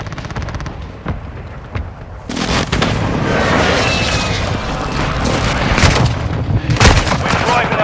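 A friendly mortar strike lands in the video game Call of Duty: Modern Warfare II, with heavy booming blasts and rumbling gunfire that continue loud and dense, layered over battlefield noise.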